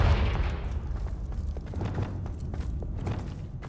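Aftermath of a Confringo fire-blast spell in Hogwarts Legacy: a loud low boom at the start decays into a rumbling tail, with scattered thuds and crackles continuing over the next few seconds.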